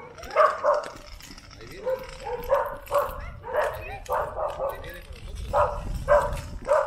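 Several dogs in Mexico barking and yipping in repeated uneven bursts, close and fairly loud, with people talking over them.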